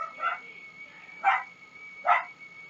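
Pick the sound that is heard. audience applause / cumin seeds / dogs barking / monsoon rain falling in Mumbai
dogs barking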